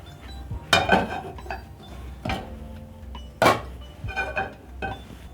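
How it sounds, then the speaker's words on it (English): A medium-sized cooking pot is lifted and handled in a home kitchen, giving a few sharp metallic clanks and clinks spaced over several seconds, close and fairly loud, with no talking. "So I'll pick a medium-sized pot"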